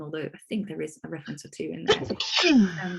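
A single sharp sneeze from someone bursts out near the end of a stretch of steady talk in an online Latin teaching session, loud and close, with a drawn-out breathy tail.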